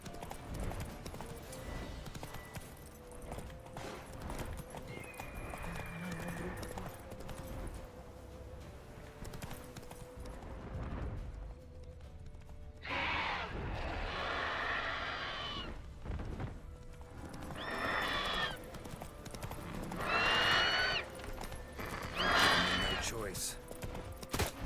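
A horse gallops with rapid, continuous hoofbeats in The Witcher 3, close and loud, with bursts of action noise and brief voices over the riding.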